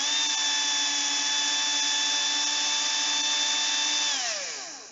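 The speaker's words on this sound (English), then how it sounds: "so it's really powering this drill" A Black & Decker cordless drill runs steadily at full speed with a strong motor whine, then winds down near the end as the trigger is released; no talking.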